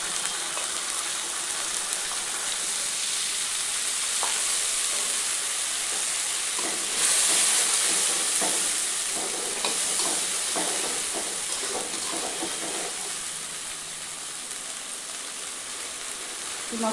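Masala paste fries in a pan with a continuous sizzle, while a spoon stirs it with scattered scraping clicks, close and steady throughout.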